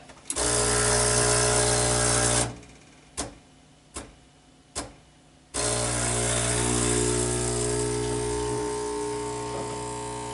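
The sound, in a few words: Breville 800ESXL espresso machine pump running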